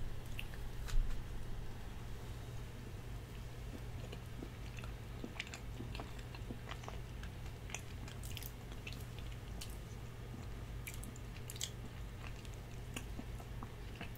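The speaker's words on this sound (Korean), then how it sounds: "일단 요것만 먹어볼게요." Quiet, close chewing and soft squishy bites while eating a Costco cheesecake, with faint intermittent clicks over a steady low hum and no talking.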